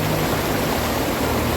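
A free-flowing stream rushes at a natural bathing spot, a loud, even wash of running water that fills the whole moment with no voices.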